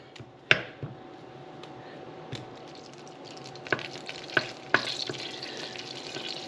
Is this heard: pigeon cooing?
no